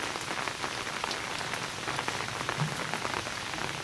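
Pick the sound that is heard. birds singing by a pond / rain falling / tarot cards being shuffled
rain falling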